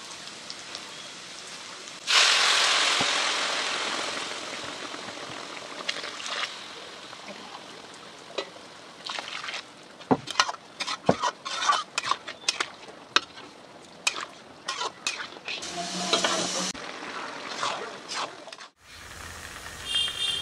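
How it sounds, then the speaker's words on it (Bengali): Pre-boiled water pours into a pot of rice frying for pulao, a rushing splash that gives way to bubbling, sputtering and clatter as it settles. "এবার এর মধ্যে জল দিয়ে দিব।"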